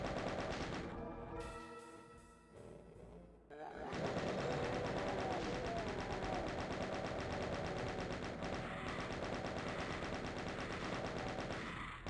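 Shotguns blast away in DOOM's SIGIL episode, with rapid, dense gunfire and combat noise that runs almost continuously after a brief lull, while a voice talks over the action.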